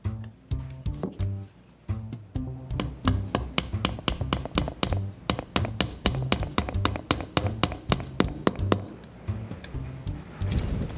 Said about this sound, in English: gently tap in your replacement corner spring with a hammer